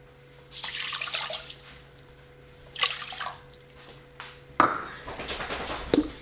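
Cold water poured into a pot for cooking basmati rice, heard as a close, steady splashing pour that pauses and resumes in several bursts, with a final dripping trickle and light clinks.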